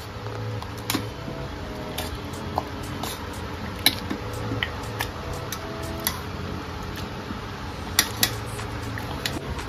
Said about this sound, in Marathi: भाज्या छान शिजून झाल्या आहेत। आता आपण ते स्मॅश करणार आहोत।